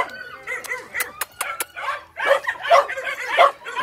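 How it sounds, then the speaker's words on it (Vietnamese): A Phu Quoc puppy at a dog kennel in Saigon barks and yips repeatedly at close range, with sharp high yaps early on followed by longer whining barks. "chó con của trại chó Phú Quốc Sài Gòn"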